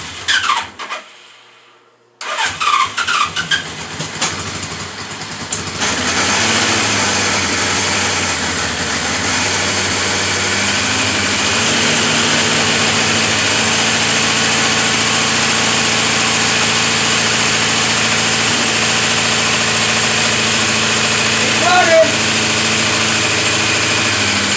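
A 1977 Suzuki GS550 four-cylinder motorcycle engine cranks and catches with the choke on after new spark plugs, then settles into a loud, steady idle with a mechanical whine that runs on unbroken to the end.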